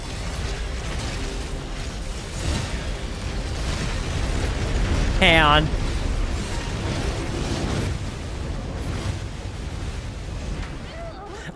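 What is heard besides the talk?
explosions in video game AI Limit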